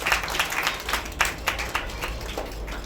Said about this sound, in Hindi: जोरदार तालियां बजाएंगे परमेश्वर के लिए।